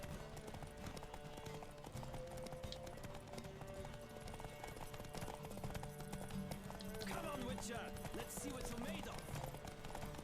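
Horse hooves clip-clop in The Witcher 3 as the horse moves along, a steady rhythmic trot under a busy game soundscape, with someone talking over it at times.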